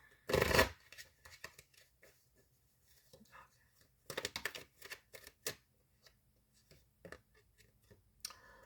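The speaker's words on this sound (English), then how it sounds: "All right, we'll do one more shuffle." Tarot cards riffle and shuffle in short bursts, a loud flurry at the start and another cluster midway, with soft handling clicks and faint whispering between.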